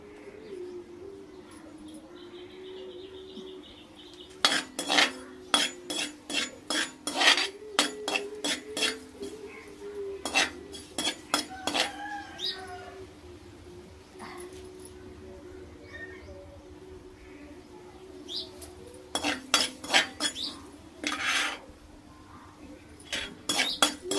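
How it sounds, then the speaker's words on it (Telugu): Cumin seeds are dry-roasted in a pan for a gongura chutney, stirred with a metal utensil in bursts of quick scraping clatter, with pigeons cooing steadily in the background. "ముందు దీన్ని జీలకర్రని వేపుకుందాం. మంచిగా దోరగా వేపుకోవాలి"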